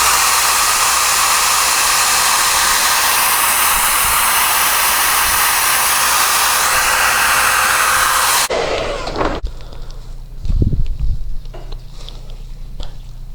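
A heat gun blows a loud, steady hot-air roar while warming the tinted edges of a third brake light, then cuts off abruptly, leaving faint handling noises and a couple of soft knocks.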